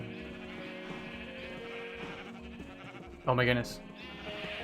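Blocky Minecraft sheep give a short, clear in-game bleat toward the end, layered over steady game music and ambient sound while a person reacts aloud.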